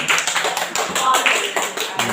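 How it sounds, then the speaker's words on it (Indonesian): Students in a classroom clap for a group that has just presented, a run of light, quick hand claps with a voice speaking over them. "Tepuk tangan yang sudah presentasi ya"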